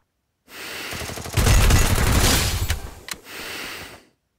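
Gunfire in the battle-royale game Free Fire, a short, rapid burst of shots ringing out close and fairly loud, peaking midway and tailing off with a sharp single report near the end.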